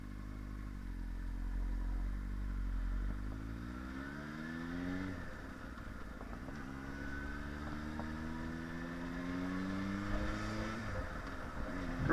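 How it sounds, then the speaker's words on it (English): A motorcycle engine idles steadily in cold weather while warming up, a low continuous rumble with gently rising and falling harmonics, close and unaccompanied by talk. "Start your bike up, let it run for a bit."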